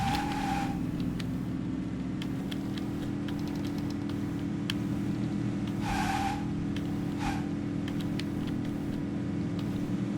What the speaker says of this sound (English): Handbrake turn, here we go